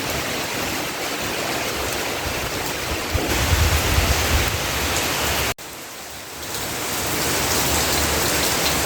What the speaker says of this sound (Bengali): রাত্রের থেকে ঝড় শুরু হয়েছে ঝড় বৃষ্টি